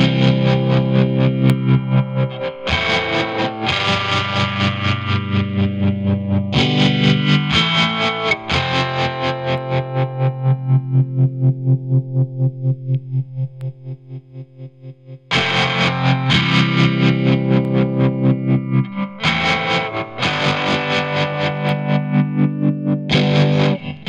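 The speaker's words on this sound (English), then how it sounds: "So I've got the phaser working with the tremolo." Distorted electric guitar through a Mooer Trelicopter running phaser and tremolo together, sustained chords pulsing in a steady rhythmic wobble with sweeping swirls, a sparser quieter passage mid-way, loud and without voices.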